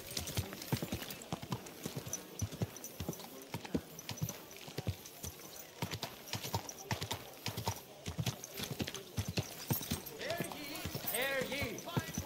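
Horse hooves clip-clop on a road in Kingdom Come Deliverance 2, a steady close rhythm of sharp knocks running throughout, with a whinny near the end and game character voices speaking over it.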